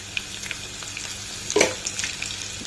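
Spices are tempered in hot oil in a pan as a pinch of turmeric goes in, giving a soft continuous sizzle with a brief louder crackle and stir midway.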